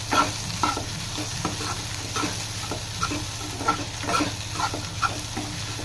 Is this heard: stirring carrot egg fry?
yes